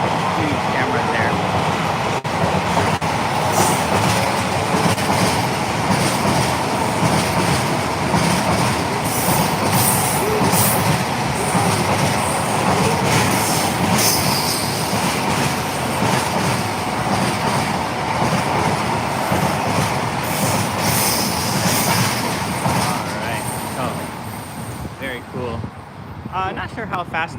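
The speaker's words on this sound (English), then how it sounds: "And here comes another train." A train in Japan rumbles past loudly and steadily, wheels clattering with occasional high squeals, fading slightly near the end.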